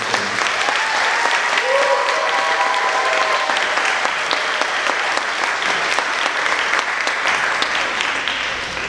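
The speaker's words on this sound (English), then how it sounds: "So please give yourselves a round of applause" A concert audience at an honor band concert gives a sustained round of applause, a thick and continuous clatter of many hands with a voice briefly heard over it.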